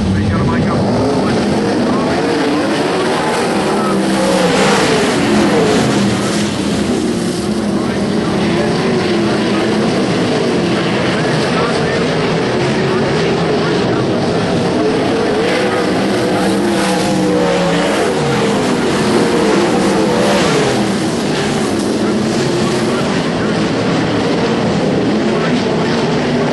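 Sprint cars circle the track at Carrick under caution waiting for the green, a continuous loud engine roar with rising and falling passes, with a commentator talking over it throughout.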